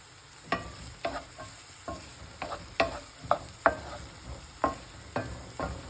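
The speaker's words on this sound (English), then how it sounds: "you want to saute the onions until they become translucent without adding any color to them" Onions sautéing gently in a pan until translucent, stirred often: about a dozen close, irregular scraping strokes over a soft, steady sizzle.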